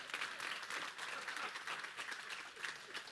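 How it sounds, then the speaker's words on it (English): Audience applause at a sermon-style talk, a steady wash of many hands clapping at moderate distance, continuous for a few seconds without talk over it. "You can applaud."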